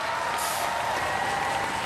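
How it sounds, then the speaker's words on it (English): Studio audience at a Robot Wars grand final breaking into steady, dense applause, a loud continuous wash of clapping with no pauses. "Give them a round of applause, ladies and gentlemen."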